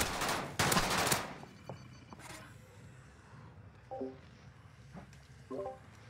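Video game gunfire in a live-streamed tournament match: a loud rapid burst of shots at the start, then scattered fainter pops and distant game effects.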